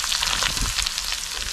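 Finely chopped onions hit hot oil in a pan while cooking dhaba-style whole masoor, giving a steady close sizzle and crackle throughout, with no talking.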